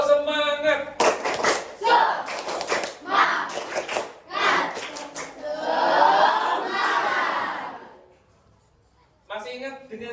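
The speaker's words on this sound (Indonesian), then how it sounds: "Oke, bisa tepuk semangat? Bisa, ayo. Tepuk semangat." A class of schoolchildren, standing up at the start of a physical education lesson, does a rhythmic spirit clap in bursts of loud group clapping and chanting, ending in quiet before voices resume.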